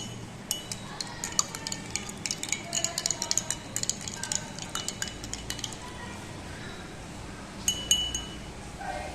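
A utensil stirs a liquid in a glass during a chemistry experiment where a base turns the solution blood red, giving repeated light clinks and taps against the glass in an irregular rhythm, close and fairly quiet, with no talking.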